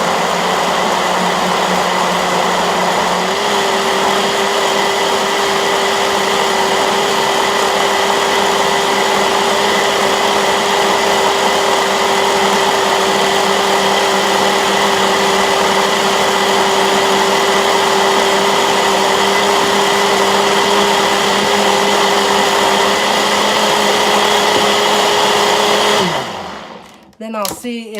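A blender crushes ice for a smoothie, running loud and steady for about 25 seconds with a constant motor whine that shifts pitch partway through, then cuts off abruptly near the end.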